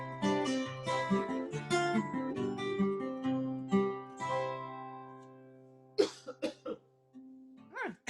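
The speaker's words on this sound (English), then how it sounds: "I had to cough that whole last part" Sustained, harmonious singing fades out, then a few sharp coughs break the quiet, followed by another short cough at the very end.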